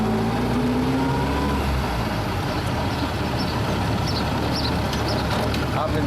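A 1928 Austin 7 Chummy tourer drives off in first gear, its small engine droning loud and close with rising pitch, wind and road noise filling the cabin as a voice talks over it.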